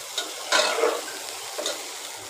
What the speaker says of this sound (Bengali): এখানে চালটা ভালো করে ভেজে নিচ্ছি যাতে ঝরঝরে হয়।